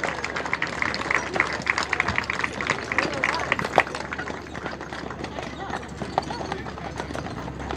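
Budweiser Clydesdale horses at the Sandusky County Fair 2022, their hooves clip-clopping in a steady rhythm, with crowd noise, scattered clapping and voices in the background.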